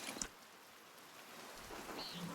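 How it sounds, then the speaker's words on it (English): Rain in the medieval adventure game Pentiment falls as a steady, soft hiss, with a brief knock at the start and no voices over it. "Look at this rain."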